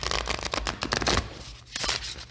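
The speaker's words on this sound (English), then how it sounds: "This shuffling might be loud on this microphone." Playing cards riffled and shuffled up close, a dense run of crisp flutters and snaps with a short pause before a final burst of shuffling.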